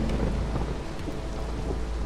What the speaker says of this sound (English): Drizzle season.